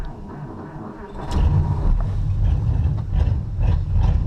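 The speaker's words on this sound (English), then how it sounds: "Oh, that carburetor's getting worse." Mercury outboard boat motor with a failing carburetor runs with a low, uneven rumble that grows louder after the first second and then holds steady, close by, with no talk.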